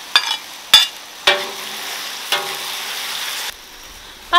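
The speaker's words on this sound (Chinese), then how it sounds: "把它们炒香之后" Beef tendons are stir-fried in a wok with scallion, ginger, garlic, pickled peppers and pickled radish. Several sharp spatula clanks land at irregular intervals, each trailing off into a soft, close sizzle.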